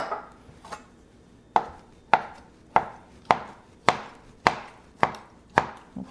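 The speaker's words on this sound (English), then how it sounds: "We'll cut them about in the same size as the green pepper." A knife chops roasted red peppers on a cutting board in about ten sharp, evenly spaced strikes, close and distinct against a quiet kitchen background.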